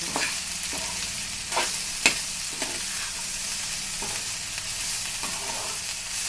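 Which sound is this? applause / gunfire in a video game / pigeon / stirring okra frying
stirring okra frying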